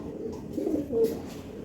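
In a loft, fantail pigeons give soft, low coos with one clearer drawn-out note near the middle, heard alone and at moderate volume.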